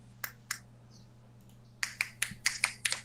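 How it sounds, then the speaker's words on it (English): Finger snaps heard up close: two isolated snaps, a pause, then a quick irregular run of about eight sharp snaps. "Snap your fingers."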